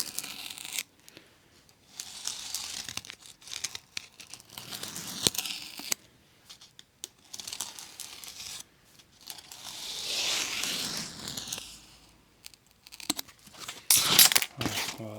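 Material for an RC airplane build is cut by hand in bursts of crisp tearing, crinkling and scraping strokes, with short pauses between and a louder rasping pass near the end.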